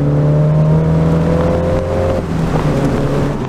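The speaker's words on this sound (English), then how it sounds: "that exhaust makes this noise" A 2018 Mini Cooper JCW's exhaust roars close by, its deep, throaty note rising and swelling as the engine revs.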